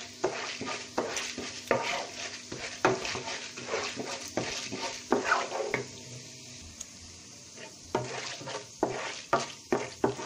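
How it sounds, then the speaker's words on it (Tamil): Chana dal and urad dal fry in a pan on low heat for tomato chutney, a steady close sizzle broken by repeated scraping strokes of a spoon stirring the lentils, with no talking. "முதல்ல கடலைப்பருப்பு உளுத்தம் பருப்பு போட்டு வதக்கிக்கலாம்."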